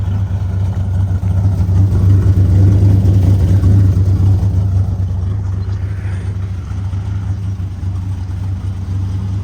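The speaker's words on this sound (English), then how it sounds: "let's go ahead and get a listen to that exhaust" A deep, steady V8 exhaust rumble from a 1970 Dodge Coronet R/T convertible with correct exhaust, loud and continuous, swelling slightly in the first half before settling to an even idle.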